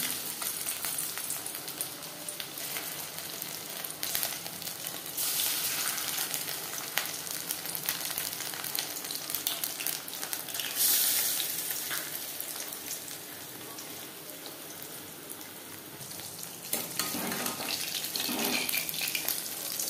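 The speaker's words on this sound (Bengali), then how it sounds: "4-5 চামচ রিফাইন্ড অয়েল গরম করে নেওয়ার পর দিয়ে দেবো মাছ।" Fish coated in a thick spice paste fries in four or five spoonfuls of hot refined oil. The steady, hissing sizzle carries on for the whole stretch, swelling in places, with no talking.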